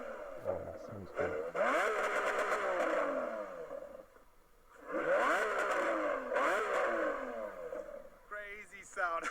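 A Lamborghini Aventador SVJ engine revs hard in two long bursts, each climbing and falling in pitch with a loud, raw howl, separated by a short drop to idle.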